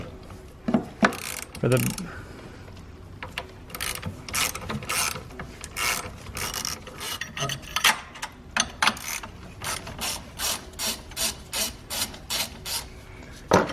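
Deep socket wrench working the 10 mm J-hook nut on a 2017+ Nissan Rogue Sport battery hold-down, a run of quick close ratcheting clicks and metallic rasps in uneven bursts, with a brief spoken phrase mixed in.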